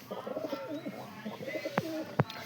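Soft, low pigeon coos repeat in a gentle rolling rhythm, close by, with a couple of sharp clicks or knocks near the end.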